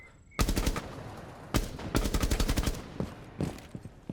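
Rapid bursts of automatic gunfire from a shooter video game while weapon recoil is tested, several loud close volleys broken by short pauses, with no talking.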